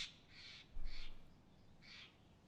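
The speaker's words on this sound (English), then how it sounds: "just hearing ducks and birds" Birds and ducks call in the DayZ game world, a few harsh cawing bursts spaced apart over a quiet ambient background, fairly faint and distant, with no talking.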